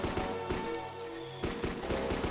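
Enemy gunfire in the Game Boy Advance game kill.switch, a boss strafing back and forth while shooting, heard as a dense run of rapid electronic shots with bursts of sharp repeated cracks amid game sound effects.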